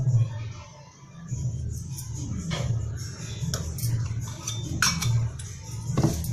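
A spoon stirs powder into curd in a bowl, giving scattered light clinks and scraping taps that stay close but quiet throughout.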